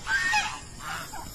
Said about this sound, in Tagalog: puntahan natin yung gansa, kung saan sila naroroon